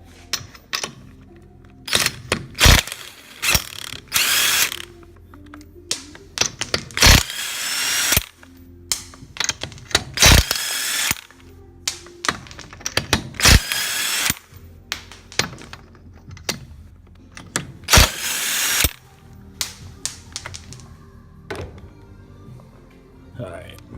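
Ingersoll Rand air impact gun rattling a dually wheel loose, firing in repeated short, loud bursts with brief pauses between them, close by.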